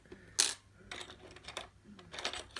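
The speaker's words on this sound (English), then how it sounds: "There's the keys." Keys for a stainless steel disc padlock jangle in a few short, faint metallic bursts, with a sharper clink at the start and softer rattles after.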